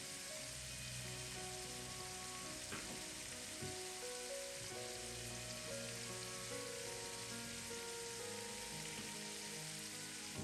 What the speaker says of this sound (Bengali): তেলটা কিছুটা গরম হয়ে আসলে আমরা দিব 1 টেবিল চামচ সরিষা, তারপরে দিব আধা চা চামচ মৌরি